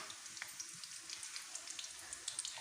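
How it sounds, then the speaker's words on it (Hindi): Corn samosas fry in hot oil with a soft, steady sizzle and small irregular pops, heard fairly faintly and without talk. "इनको सिंपल फ्राई कर लूँगी"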